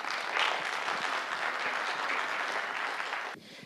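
Strong, sustained applause from an audience at a school speaking contest, welcoming a group spokesperson; dense clapping fills nearly the whole clip and cuts off abruptly near the end.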